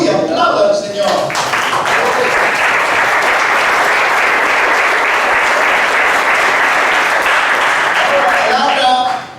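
Dense, steady applause from a church youth training audience fills the room, loud and sustained for several seconds, with a voice briefly audible at the start and end.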